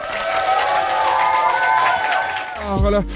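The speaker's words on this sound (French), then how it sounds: "On l'applaudit, s'il vous plaît." A crowd applauds and cheers after a singer's performance on a French musical show, loud and continuous, with voices and music-like tones layered over it and a low rumble near the end.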